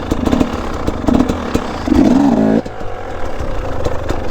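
A dirt bike engine revs in loud, uneven bursts during a wheelie attempt, dropping off sharply partway through after a bog or stall, with rattling mechanical clatter continuing afterward.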